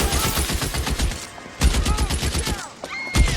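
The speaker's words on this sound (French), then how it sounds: "Ouh là, ça tire. Ça tire avec un bar." Rapid bursts of gunfire from a shootout in the video game L.A. Noire, loud and continuous with short gaps, mixed with game voices.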